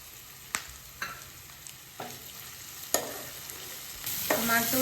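Tomato going into a pan of frying onions for a bitter gourd gojju: a series of spaced utensil scrapes and clicks over a low sizzle that swells louder near the end, with no voices.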